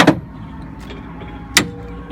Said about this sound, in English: So you push the button in the center, pull that out, and pull the bar out.